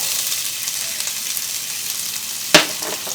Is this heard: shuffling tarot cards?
no